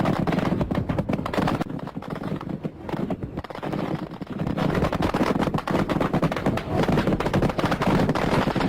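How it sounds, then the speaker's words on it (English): Rapid gunfire from 37mm anti-aircraft guns on Chinese warships firing at Vietnamese forces on a Spratly Islands reef in 1988, heard as dense, continuous loud bursts and impacts with no talk. "the Chinese used battleships for firing with 37mm anti-aircraft guns directly at the unarmed and light-armed Vietnamese"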